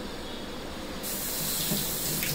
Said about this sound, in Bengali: আমটাকে তো আগেই ভালো করে ধুয়ে নিয়েছি, তারপরেও ছিলার পরে একটু ধুয়ে নিলাম